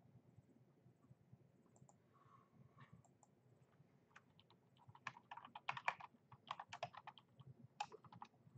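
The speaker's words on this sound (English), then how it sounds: "I'm typing a joke to a friend." Keys clack on a computer keyboard, sparse at first and then in quick, close, irregular bursts of sharp clicks against a quiet room.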